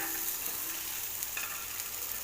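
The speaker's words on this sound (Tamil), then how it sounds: "பரட்டி வச்சுட்டு ஷாலோ ஃப்ரை பண்ண போகிறேன்" Sardines shallow frying in a pan give a steady, bright sizzle with crackling pops of hot oil, continuous and close up.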